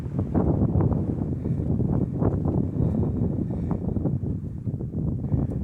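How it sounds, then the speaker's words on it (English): Gusty wind roars and buffets steadily across an open mountain summit, a low rough rush that swells and eases without letup. "As you can tell, it's still windy up here."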